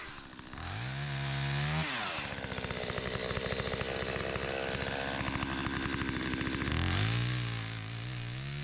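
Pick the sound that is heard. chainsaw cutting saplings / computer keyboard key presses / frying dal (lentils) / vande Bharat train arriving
chainsaw cutting saplings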